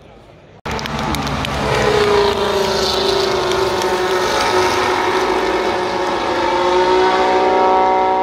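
Formula 1 car passing at speed on the Spa-Francorchamps circuit during the Belgian Grand Prix, a sudden loud onset followed by a sustained roaring engine whine that slides in pitch as it goes by, with crowd noise around it.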